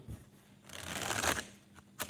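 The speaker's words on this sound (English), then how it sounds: "let's give these cards a really good shuffle" Tarot cards are shuffled by hand in a few quick riffling bursts, close and fairly soft, with a brief pause and a final snap of the deck.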